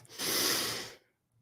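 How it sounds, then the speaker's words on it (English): A single deep breath drawn in slowly and steadily, close and fairly loud, lasting nearly a second before trailing off into quiet, with no talking over it. "Take a deep breath."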